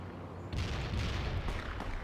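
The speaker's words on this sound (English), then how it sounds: "Fire some grenades at the enemy." Grenades fired at the enemy in World in Conflict, a dense rumbling barrage of booms and bursts that swells after a brief lead-in and keeps pounding in overlapping hits.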